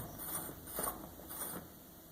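Parameter knob on a Protherm Lynx boiler being turned back and forth, a few soft ratcheting clicks in short bursts, quiet and close with no voices.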